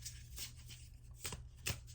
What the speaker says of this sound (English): I'm gonna shuffle the deck a bit.